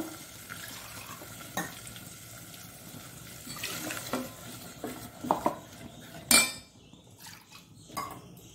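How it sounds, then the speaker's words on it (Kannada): Water poured into a pot of Mangalore-style rasam mixture, splashing and gurgling over clinks and scrapes of a steel pot and utensils, with a few sharper knocks near the end and no voices. "ಇನ್ನು ಒಳ್ಳೆ ಎಷ್ಟು ನೀರು ಬೇಕು ಅಷ್ಟು ನೀರನ್ನು ಸೇರಿಸೋಣ ನಾವು"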